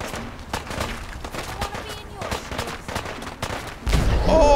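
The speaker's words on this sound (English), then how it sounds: "Oh, come on with the grenades!" Rapid gunfire and blasts from grenades going off in Fallout 4 combat, a dense run of sharp bangs that swells into a heavier, louder rumble near the end, with a voice mixed in.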